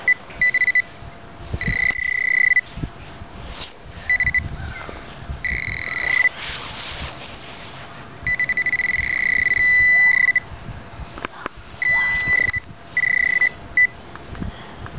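A timer alarm beeps in repeated bursts of shrill electronic tones, starting and stopping several times over outdoor background noise during a metal detecting outing.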